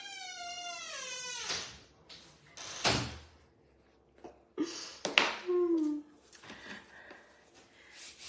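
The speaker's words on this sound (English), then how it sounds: "Close the door for me, please." A door is closed indoors with a few knocks and a firm thud, mixed with a voice and other household sounds.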